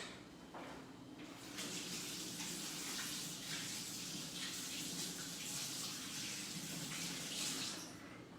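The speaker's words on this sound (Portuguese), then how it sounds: "Então é necessário lavar as mãos." Water running from a tap while hands are washed, a steady hissing gush that starts after a brief pause and flows on evenly for several seconds, close and alone without talk.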